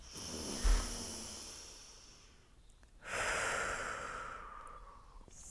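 Deep breathing during a seated yoga twist in a children's class: a brief sharp inhale, a pause, then a long, steady breath that lingers close and clear, with no talking over it.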